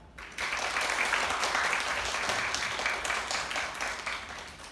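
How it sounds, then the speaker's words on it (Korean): An audience at a climate seminar claps to welcome a professor, steady dense applause that starts abruptly and carries on at moderate volume, fading a little toward the end. "저희 박수로 이준희 교수님 맞이해 주시기 바랍니다."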